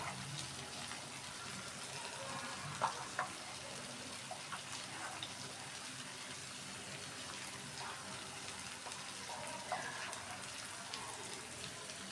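Whole cardamom pods, cloves, bay leaves and peppercorns frying in hot oil, giving a soft, steady, hissing sizzle that runs quietly throughout with a few faint crackles.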